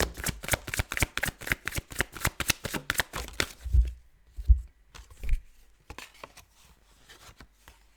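Tarot cards are riffled in a quick, close, rhythmic run of crisp shuffles, then give way to a few soft thumps and light handling as the deck settles.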